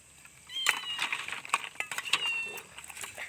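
A cat meows several times in short, close, fairly loud calls outdoors in a rural Thai setting, with rustling and small knocks around it.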